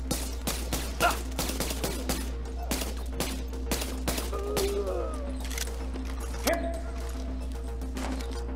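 Gunfire rattles through a mission in The Division shooter game: many sharp shots rapid and scattered, some in quick bursts, continue steadily at moderate loudness over a low constant hum, with faint voices now and then.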